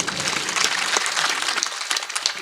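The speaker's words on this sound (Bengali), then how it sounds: "তার জন্য একটা জোরে করতালি দিয়ে দেয়" An audience bursts into loud, dense applause at a book launch event, many hands clapping together in a continuous close wash that holds for a couple of seconds.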